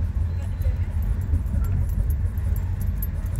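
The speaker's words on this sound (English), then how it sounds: "At around 1500 RPM when the EGR valve is open, it's like the car is taking mini pauses while accelerating." A car with a faulty EGR valve accelerates around 1500 RPM with a deep, close engine rumble that hesitates slightly. Keys jangle faintly over the engine noise.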